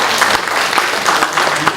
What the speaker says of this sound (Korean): 우리 박수 한번 치시기 바랍니다.